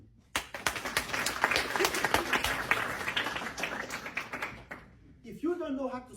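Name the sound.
audience clapping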